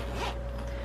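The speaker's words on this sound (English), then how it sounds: "Again, nice smooth zipper." Zipper pulled smoothly along one of the zippered compartments of a 47-piece ergonomic crochet hook set case, a single close, brief zip that fades out, with no voices.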